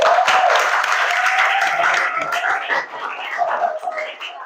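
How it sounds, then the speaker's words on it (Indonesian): A class of 9B students applauds in a classroom, a loud dense patter of clapping that thins out toward the end, with some yelps or cries mixed in. "Tepuk tangan untuk kita semua"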